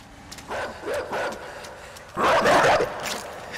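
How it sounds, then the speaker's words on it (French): Dogs bark in the dark side-scrolling video game Inside: a few sharp barks in a loose cluster, then a louder, longer burst of barking, set against low ambient game sound with no voices. "Bon, le chien va être là, je le sens."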